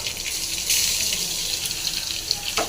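Mustard seeds splutter and crackle in hot oil in a pan while drumstick leaves (murungai keerai) are being stir-fried, giving a steady close hiss of frying with faint popping throughout.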